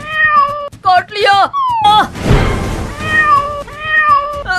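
Several cats meow in quick succession, close and loud, some calls rising and falling in pitch, with a burst of noisy clatter between them and a person speaking briefly over the calls.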